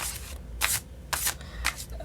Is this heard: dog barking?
no